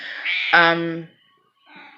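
A pet cat meows indoors, a drawn-out nasal call that rises and then holds, followed after a short silence by a second, fainter meow, close by with no speech.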